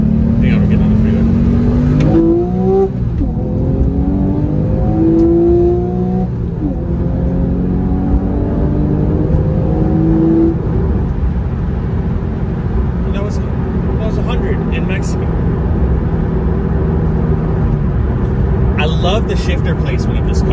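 Porsche 911 Carrera 997 engine pulling hard while merging onto a freeway, the pitch climbing through the gears, steady road and wind noise underneath, and someone talking over it from inside the cabin.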